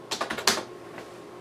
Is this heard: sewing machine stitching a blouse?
no